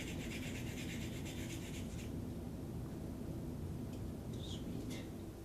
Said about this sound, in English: So I'm just going to peel these carrots really quickly.